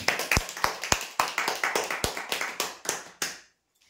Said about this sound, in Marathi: जोरदार टाळ्या होऊ द्या यांसाठी.